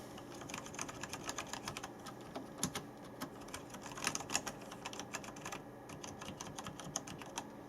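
Quiet, rapid keystrokes patter from a Logitech G910 Orion Spark mechanical keyboard, a soft, uneven stream of clicks close by with no voices.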